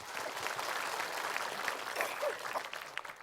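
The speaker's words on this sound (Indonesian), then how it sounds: "Tepuk tangan dulu." Audience applause at an Islamic lecture, a steady wash of clapping filling the room for about three seconds, fairly even in loudness with a few louder bursts near the end.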